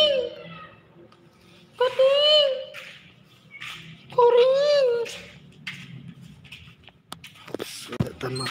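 Kittens give two clear, rising-and-falling meows a couple of seconds apart, close and fairly loud, with softer rustling and voices in between.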